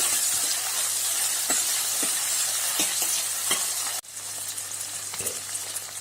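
Onion and tomato sauté in a pan for onion kuzhambu, a loud continuous sizzle broken by occasional spoon scrapes, briefly cutting out and then resuming.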